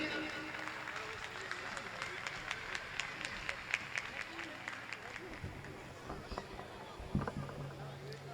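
Audience at an evening poetry gathering during a Navratri cultural event clapping to welcome a poet, a steady patter of applause from a modest crowd, fairly distant, with voices over it.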